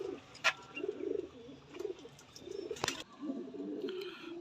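A pair of Teddy pigeons coo softly in repeated low, throaty phrases, with a few sharp clicks and rustles between the calls.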